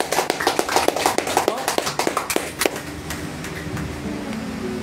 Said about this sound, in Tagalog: Palakpak po natin, Lord!